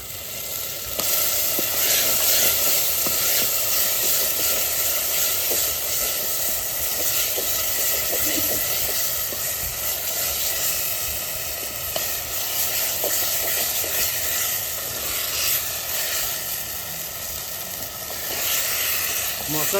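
Duck meat hisses and sizzles loudly after being dropped into a hot pan of spices with salt, turmeric and dried chilli powder, a dense continuous crackle lasting throughout, close to the listener.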